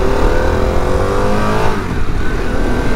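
A Harley-Davidson Pan America motorcycle accelerating hard on the road, its engine note climbing steadily in pitch, loud and close throughout with no talk.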